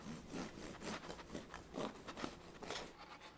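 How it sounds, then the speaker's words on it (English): A knife or bite cracking through the golden crust of a freshly baked Irish soda bread loaf, giving a close, dry, rasping crunch in repeated scraping strokes over a few seconds. "Listen to this crunch."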